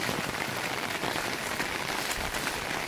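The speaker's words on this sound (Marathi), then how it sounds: "दिवसभर पाऊस सुरू आहे" Rain falls steadily around a farmhouse in a village, a close, even patter and hiss with no voices over it.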